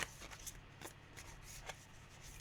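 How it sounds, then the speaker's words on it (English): A small, oddly heart-shaped tarot deck being shuffled: soft, quiet, irregular riffles and card slaps close by, with no voices. "I can't shuffle this deck."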